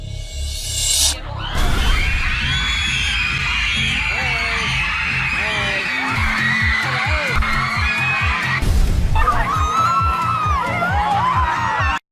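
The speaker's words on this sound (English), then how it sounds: "Screaming." Excited fans scream and shriek loudly as celebrities surprise them, with overlapping high yells rising and falling throughout, and a few voices mixed in.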